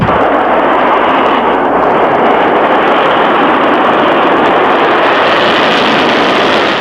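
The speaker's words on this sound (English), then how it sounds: "All cameras rolled as they heard liftoff from Vandenberg over their radio." An anti-missile missile lifts off from Vandenberg, heard as a loud, continuous, dense rumbling roar that holds steady without a break for the whole stretch.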